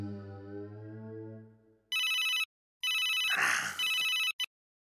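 A telephone rings in bursts of electronic trilling, loud and close, cutting in after a person's voice fades out.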